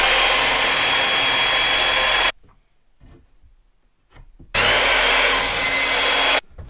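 Loud, close rasping as the edges of a wooden board are smoothed by hand, in two sustained strokes of about two seconds each separated by a quiet pause.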